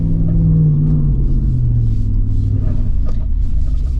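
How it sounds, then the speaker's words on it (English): A Jeep Wrangler 392 fitted with an AWE exhaust rumbles loudly and steadily nearby as it drives an off-road course over gravel, its deep engine note easing slightly in pitch partway through. "Gotta love that exhaust. It says the AWE exhaust on it"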